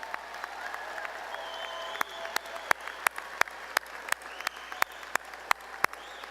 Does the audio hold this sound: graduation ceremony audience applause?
yes